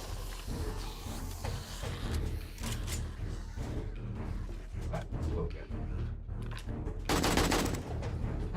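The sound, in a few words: gunfire in video game 7 Days to Die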